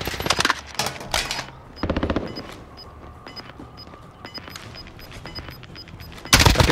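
Loud machine-gun bursts in Call of Duty Warzone, a dense rattling volley, then a steady ticking beep under lighter fire, and another heavy burst at the end.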